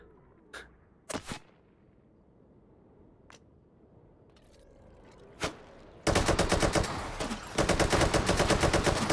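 A fast-firing gun in the VR shooter Hot Dogs, Horseshoes & Hand Grenades on the HTC Vive rattles off a dense, rapid stream of shots after a few scattered single bangs, loud and continuous to the end.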